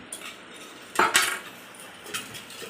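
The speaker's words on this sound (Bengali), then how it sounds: "আমি এখানে চাকু দিয়ে কেটে নিচ্ছি" A knife cuts through raw green bananas in a home kitchen with a few sharp clicks and scrapes, close and fairly quiet, widely spaced among soft handling noises.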